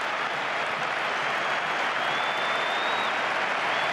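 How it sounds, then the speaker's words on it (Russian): Real Madrid fans in Barcelona's stadium applaud, a broad, steady wash of clapping from a large crowd heard at a distance, with a faint high whistle partway through. "Это аплодисменты болельщиков Реала в Барселоне."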